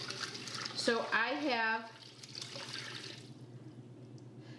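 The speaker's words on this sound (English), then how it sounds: "And then I'm going to add in water up to the fill line." Cold tap water pours into a 10-quart Instant Pot inner pot as a steady splashing stream, near and fairly loud. A voice speaks briefly over the start, and the sound then thins out.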